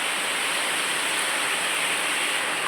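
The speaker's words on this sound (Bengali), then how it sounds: "আমাদের এখানে প্রচুর পরিমাণে বৃষ্টি হচ্ছে" Heavy rain pouring in North 24 Parganas, a dense, steady hiss of downpour filling the whole scene without pause or voices.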